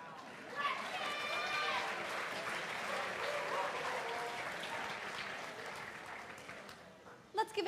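A crowd applauding the parents of high school homecoming candidates at a coronation ceremony, sustained clapping with cheers and chatter layered in, tapering off before a few sharp knocks at the end.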